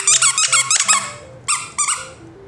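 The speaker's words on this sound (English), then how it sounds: "You're squeaking that so well." A dog chomps a squeaky toy indoors, producing a quick series of loud, close squeaks in bursts, then a pause and two more separate squeaks.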